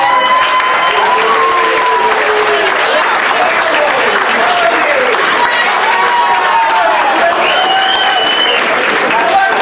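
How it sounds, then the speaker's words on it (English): Loud, sustained applause from the audience at a pizza shop show, with cheering voices and whoops rising over dense clapping throughout. "Another big round of applause."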